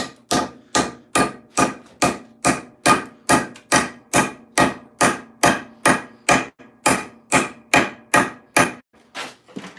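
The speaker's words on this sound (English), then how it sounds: "sometimes your axe head will move up when you're hammering this down" An axe head is hammered down onto a hickory handle in a steady run of about twenty sharp, loud wooden strikes, evenly spaced and close, with no talking.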